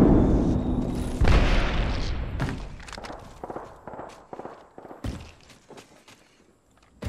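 An Arc Star grenade detonates in Apex Legends with a loud booming burst, trailed by crackling electric snaps and scattered thuds and footsteps that fade out.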